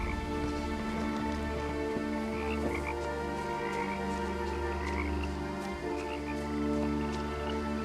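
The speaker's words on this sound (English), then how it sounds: "Lots of frogs around." Many frogs croaking in a video game scene outside an old cartoonish family house, a dense chorus of overlapping croaks held steady throughout with a low ambient hum beneath.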